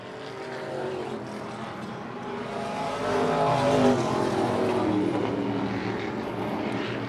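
Race cars circling a track during a 50-lap race, a continuous engine roar that swells and recedes as the pack passes, moderately distant and without talk.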